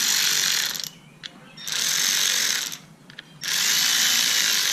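A ratchet tightening clutch bolts on a 125cc pitbike, heard as three bursts of fast, close clicking separated by short pauses, with no talk.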